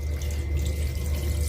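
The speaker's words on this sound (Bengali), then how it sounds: "এবার আলুটা সেদ্ধ হওয়ার জন্য জল দিয়ে দিচ্ছি।" Water poured into a pan of frying potatoes and pointed gourd for a vegetarian korma, giving a steady, close, continuous pouring rush with no voices.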